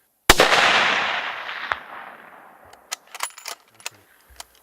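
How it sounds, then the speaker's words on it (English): A single loud rifle shot fired at a bull moose during a hunt cracks out and rolls off in a long fading echo, followed by scattered faint clicks and knocks. "Now you can shoot."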